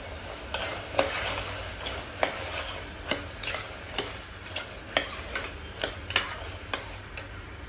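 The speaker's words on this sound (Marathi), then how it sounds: "तर आता हे छान परतून घेते आणि यात चवीनुसार मीठ वगैरे पण घालून घेते" Dried peas are sautéed in a pan for a rassa curry. A spatula scrapes in a steady rhythm of sharp, close taps over a soft frying sizzle, with no talking.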